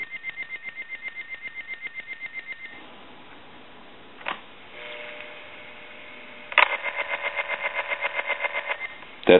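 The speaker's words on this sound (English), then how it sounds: "you're going to hear this piezo buzzer ring" The piezo buzzer in a Harris TS22 lineman's buttset rings in repeated rapid pulses, stops, a few clicks and a steady tone follow, then the buzzing ring resumes loud and close.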